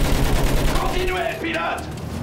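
A machine gun fires in a rapid fusillade during a World War I battle in Battlefield 1, loud and dense with low booms, while a voice shouts over the gunfire.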